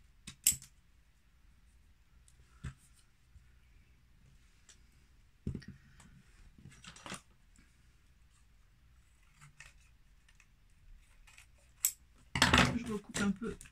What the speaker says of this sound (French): Je vais même couper maintenant.